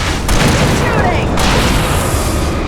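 Gunfire bursts erupt in Alan Wake Remastered as enemies close in, loud, booming shots stacked close together over a dense, rumbling wash of noise.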